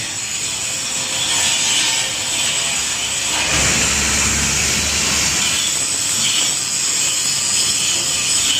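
A heavy angle grinder works a stainless steel anchor, producing a continuous loud, harsh whine and rasp that holds steady and grows rougher midway, close and without talk.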